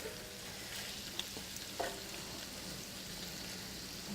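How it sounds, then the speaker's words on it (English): Bacon and smoked salmon skewers frying in a pan: a steady, faint crackle and sizzle runs throughout, with a couple of small pops and no talking. "they're browning up on that one side, going nice and crispy."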